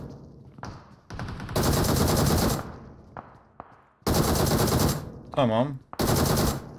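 Bursts of automatic gunfire from the mobile battle-royale game PUBG Mobile crackle in loud sustained volleys separated by short gaps and single shots, with a brief spoken word between bursts.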